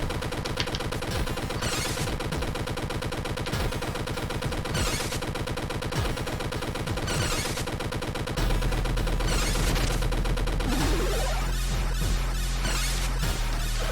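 Steady, rapid gunfire from the retro action game Super Cyborg repeats in a tight mechanical rhythm over chiptune music, joined later by a low droning tone and denser blasts.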